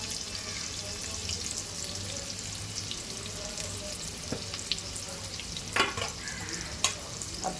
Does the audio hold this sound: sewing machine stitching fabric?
no